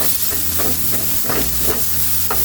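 Chopped vegetables including snake gourd sizzling in a hot pan while being stirred for vegetable fried rice, a loud close frying hiss broken by scraping strokes of the spatula.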